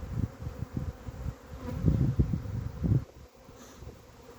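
Honeybees swarm around a hive while a swarm is being collected, making a dense, wavering buzz with louder close passes, steady throughout and not very loud.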